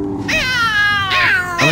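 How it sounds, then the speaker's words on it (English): A cat in the survival video game DayZ lets out two drawn-out, wavering meows, close and loud, with almost nothing else audible between them. "the cat's coming up"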